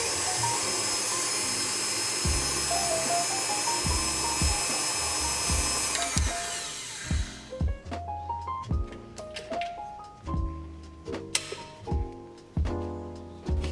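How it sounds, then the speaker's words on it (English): An electric mixer whisks cream with crushed biscuits in a bowl, a steady high whir at first, then breaking into short pulsed bursts with rhythmic beater knocks against the bowl, close and fairly loud. "add in the crushed biscuits and then continue to whisk until soft"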